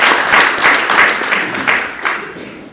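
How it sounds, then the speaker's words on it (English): Loud, close applause from the audience at a bar admission ceremony for new advocates, a lively burst of many hands clapping with uneven surges that slowly eases off over a few seconds. "I ask us to really applaud you at this moment."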